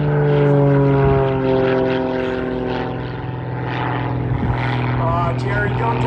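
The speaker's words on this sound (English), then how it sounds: "It's a light airplane with a fair amount of horsepower under the cowling there." A light, high-horsepower propeller plane performs aerobatics over a World War 2 weekend airshow, its engine a loud, steady droning growl that swells and eases, with an announcer talking.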